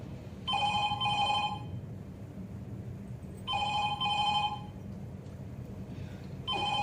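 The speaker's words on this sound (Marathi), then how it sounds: "तो फोन घ्या ना तुम्ही" A landline telephone rings in three separate bursts, each a double trill of bright bell tones, with short quiet pauses between them and a low room hum underneath.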